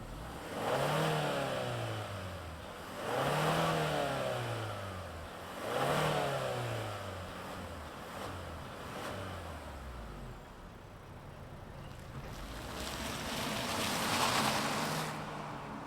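A 2024 Genesis G70 2.5T turbocharged inline-four revs close by in three quick rising and falling bursts, then settles into a steady idle before a final gentle swell.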